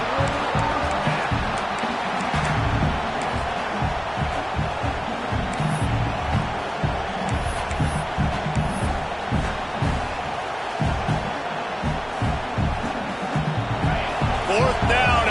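Stadium crowd roars steadily throughout a Madden football video game broadcast, a dense continuous wall of noise with swelling cheers under intermittent commentary.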